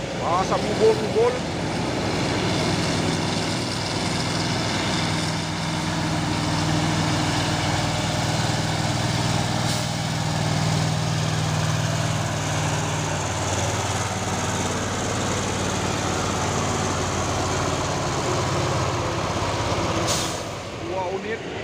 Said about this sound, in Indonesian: Dua unit dump truck Fuso dan ada juga truk trailer Hino.